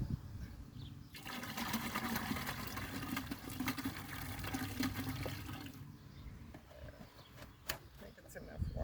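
Water gushes and splashes as an overfull garden planter is tipped out, a rushing pour lasting several seconds close by, then easing to trickles.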